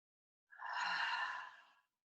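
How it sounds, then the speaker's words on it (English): A single deep breath during a guided class, an audible airy inhale flowing into a breathy exhale, soft and close, lasting just over a second with no talking. "Another deep inhale. Exhale, ha."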